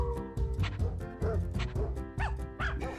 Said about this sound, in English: It's a dog chorus singing in the background.